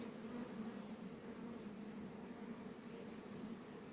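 A steady, low drone of many honey bees buzzing together at a hive on a hot day, soft and even, with no breaks or voices.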